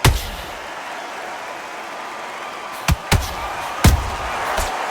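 Heavy punches landing in the Undisputed boxing video game, a loud booming thud at the start followed by a quick pair of sharp impacts and another heavy hit, over a steady crowd-like background hiss.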